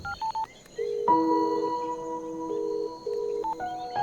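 Outgoing phone call dialing tones, a quick series of short keypad beeps followed by a long steady run of mixed dual tones and then a few more beeps, clear and close with no talking.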